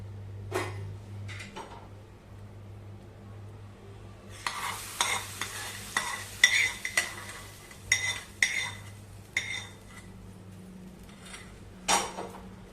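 A spoon or spatula stirs dal palak, a spinach and lentil curry, in a pan, scraping and clinking in irregular bursts over a low sizzle. The sound is close, with no talk.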